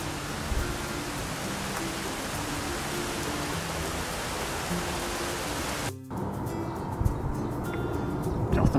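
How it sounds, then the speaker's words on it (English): Steady rain hisses and patters on surfaces, dense and even, then thins abruptly to a lighter sprinkle with occasional drips. "Just a passing shower then."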